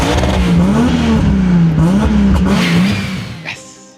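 Loud car engine revving close by, the pitch rising and falling in waves before the roar fades out.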